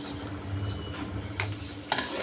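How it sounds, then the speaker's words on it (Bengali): Onions and whole spices fry in a pan with a steady, close sizzle, punctuated by a few soft stirring scrapes and clinks, with no talking over it. "এখানে হয়েছে পেঁয়াজটা ভেজে নিচ্ছি"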